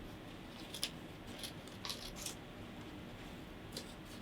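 Scissors cutting quickly around a paper hand shape, a series of soft crisp snips spaced irregularly over a quiet hiss, with no talking.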